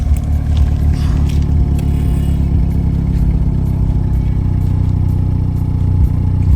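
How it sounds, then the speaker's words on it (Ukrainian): A 2015 BMW 528i xDrive F10 facelift idles just after a cold start, its engine giving a steady, low, dense hum with some light ticking heard from close by. "Це в нас запуск на холодну, ребята."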